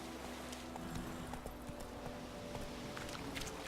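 Hooves of the horse Roach clip-clopping in Witcher 3, a quiet, steady trotting rhythm under a low game-world ambience and a faint sustained tone, with no voices.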